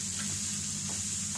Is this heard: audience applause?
no